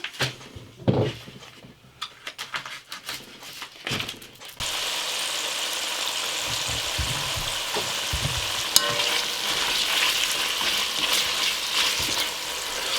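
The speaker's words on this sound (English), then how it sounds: "I think all good recipes start with bacon simmering in the bottom of a pan" Bacon and half an onion sizzle in a pan, the first seconds broken by a few stirring scrapes and knocks before a steady, fairly loud frying hiss carries on to the end.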